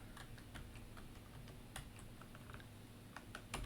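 Computer keyboard keys tapped while a spreadsheet formula is entered, a sparse run of light, close clicks with irregular spacing and a few louder strokes, alone over low room hum.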